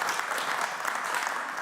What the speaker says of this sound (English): I want to have a super massive loud applause for Buzra